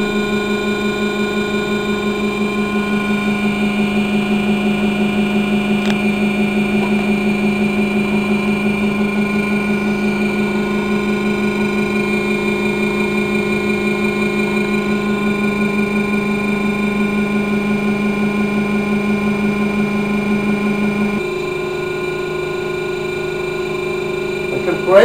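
A 20 kW brushless BLDC motor for an electric plane runs steadily on a test stand, a strong tonal whine with layered harmonics that drops slightly in pitch near the end, alone without talk.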